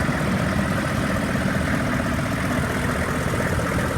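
The 6.5 liter diesel engine of a 2002 Hummer H1 idles steadily after running for over an hour, a close, continuous low rumble with an even rhythmic clatter and no voices.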